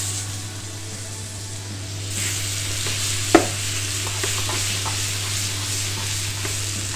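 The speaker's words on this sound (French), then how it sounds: "pendant que les poires sont en train de caraméliser" Pears caramelizing in butter caramel in a frying pan, a steady close sizzle with soft stirring and scraping, one sharp utensil knock partway through.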